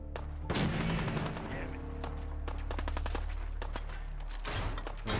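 A gun fires in the VR game Fallout 4 VR: irregular sharp shots, some in quick clusters and others spaced apart, over a steady low rumble of game ambience.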